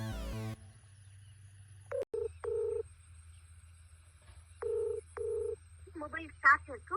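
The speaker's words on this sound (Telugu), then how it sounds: "ఇప్పుడు ఈ మొబైల్ పంపు స్టార్టర్లో వేసుకున్న నెంబర్కి మనం కాల్ చేయాలి." Keypad tones sound as a phone dials a Tata TQ mobile pump starter: a short tone sequence at the start, then single spaced beeps and a chirping electronic signal near the end over a faint hum.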